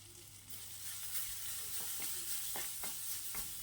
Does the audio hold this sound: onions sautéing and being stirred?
yes